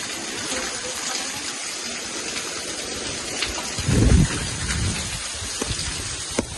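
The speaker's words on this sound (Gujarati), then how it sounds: "ભાઈ વરસાદ" Heavy monsoon rain pours steadily outdoors in rural Gujarat during sowing season, a dense continuous hiss with a brief louder gush near the middle, no voices.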